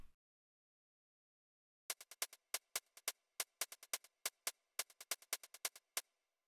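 Anthem synth stabs in a UK drill beat built in Soundtrap: after about two seconds of silence, a run of short, bright, punchy chord hits plays in a tight rhythmic pattern, close and alone.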